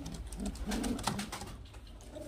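Soft cooing of highflyer pigeons, several low rounded calls repeating close by against a quiet background.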